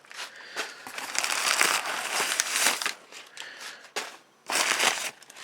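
Paper crumpled and crushed close to the microphone as scrap for a fire, crackling in uneven bursts with brief pauses and a sharp final flurry, with no talking.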